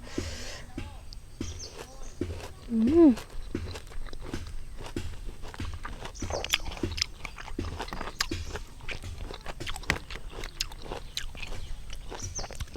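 Crunchy pickled mixed fruit, including pickled mango, is bitten and chewed outdoors at a rubber plantation, with a run of close, crisp crunches in quick rhythm and a brief voice early on.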